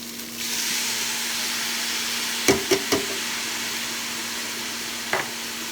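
Diced tomatoes hit a hot pan of five bean chili and break into a steady, close sizzle, with a few sharp utensil knocks against the pan partway through.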